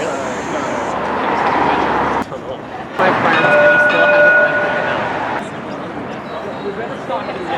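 A new G-Class electric tram rumbles nearby on its first passenger service, with a brief tonal ring in the middle, while people talk over the steady noise.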